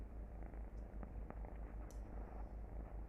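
Cats purring in a close, soft, low rumbling drone that rises and falls with each breath, faint and steady and alone.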